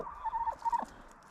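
Chickens call from close by, including Australorps, with tonal, wavering clucks and short vocal bursts in two main phrases over a quiet background.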